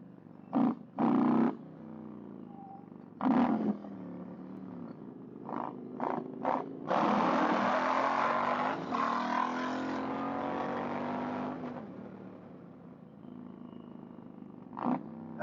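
An Indian motorcycle with a 112 engine rides past, its engine swelling into a sustained roar for several seconds before easing off, after a few brief scattered sounds.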